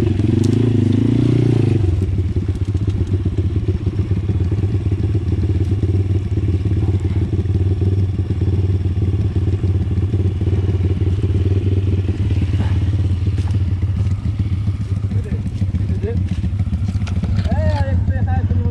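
Pitgang 140XD pit bike engine on a light enduro ride, a loud, steady low drone running close and continuous throughout, with a brief shift in tone at the very start and light clatter on top.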